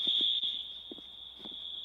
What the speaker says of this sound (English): that sounds like a fire alarm at one of the apartment buildings